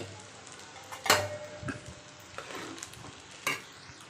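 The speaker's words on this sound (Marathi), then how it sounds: "आता आपण त्याच्यामध्ये हिरवी मिरची छान अशी फ्राय करून घेऊ।" Green chillies frying in oil in a pan, soft sizzling under several sharp spatula scrapes and clacks against the pan, close and moderately loud, with no talking.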